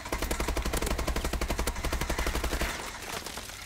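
Rapid heavy automatic gunfire from dual heavy guns in Call of Duty, loud and close, a steady rattling burst of shots lasting nearly three seconds before cutting off to a quieter background.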